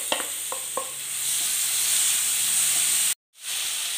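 Onions, ginger-garlic paste and chopped tomatoes fry in a pan for a roasted-coconut chicken curry. A steady close sizzle carries on while a few utensil knocks come early in the stirring, and the sound cuts out briefly near the end. No one talks.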